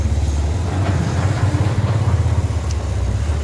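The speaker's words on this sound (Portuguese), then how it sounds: "Moto de novo." A motorcycle goes by on a street beside a construction site in Campo Grande, Rio de Janeiro, its mid-pitched engine a steady, fairly loud drone over low rumbling traffic noise, with no talking.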